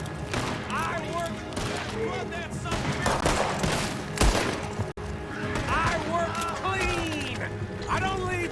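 Gunfire rings out in Red Dead Redemption II, a town shootout with scattered shots and bursts, a horse whinnying, and voices talking over the din.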